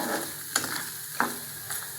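Halwa being stirred in a pan on the stove: a soft sizzle runs under three distinct scraping strokes of a spoon against the pan, close and fairly quiet.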